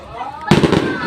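Fireworks shells burst with a sudden loud crackling boom after a short quieter lead-in, followed by dense rolling crackle and echo, and excited voices can be heard around it.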